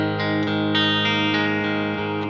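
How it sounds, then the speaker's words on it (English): Electric guitar played clean through a Two Notes Opus amp simulator set to a Fender Deluxe Reverb model, a few ringing notes and chords picked in steady succession, close and full with a touch of reverb, no voices. "it's a really nice Fender Deluxe reverb, and I think that's a Fender Deluxe reverb is a very specific type of clean sound"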